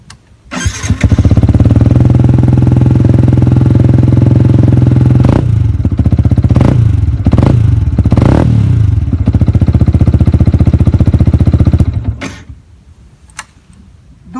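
A Yamaha YZF R125 motorcycle, started cold, fires up and settles into a loud, steady idle lasting about eleven seconds, with a few sharp throttle blips midway, then cuts off, leaving quiet background.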